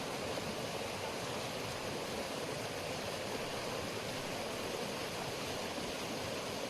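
Rainwater from heavy rain rushes over a road like a waterfall, a dense, loud, unbroken roar of flowing water that holds steady throughout with no voices.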